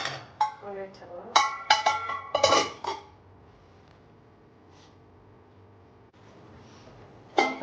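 Metal cookware clattering while egg curry is made, with several sharp clinks and knocks of a pot and lid close by, then quiet, then one final clank.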